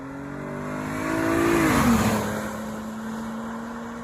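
A V6 all-wheel-drive Dodge Challenger engine pulls hard under acceleration, its note climbing and swelling to a peak, then settling into a steady drone as the revs even out.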